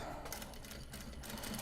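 A sewing machine top stitching Japanese fabric tote bags runs in a short, steady, continuous burst, close and fairly loud.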